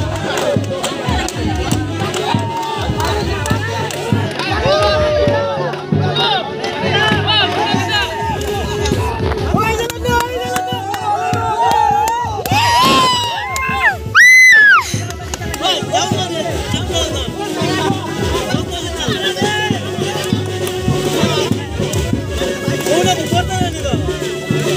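Dense crowd at a Bengali wedding ceremony, a loud, continuous babble of many voices that fills the space without a break.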